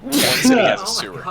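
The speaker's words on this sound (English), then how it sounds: "Oh, hold on, I'm gonna sneeze." One loud sneeze bursts out in the middle of a person's talk during a casual tactical board-game session, with speech around it.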